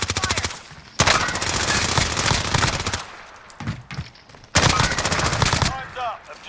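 Bursts of automatic video game gunfire rattle loudly in two long stretches, broken by a quieter gap with scattered shots, while voices speak briefly in between.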